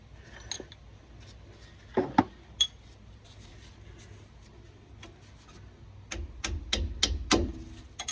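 Sharp metallic taps of a small brass drift against a GM 10-bolt rear differential carrier with a 3.73 gear set, struck to seat it without damaging the shim pack; a few isolated knocks early, then a quicker cluster of ringing hits near the end.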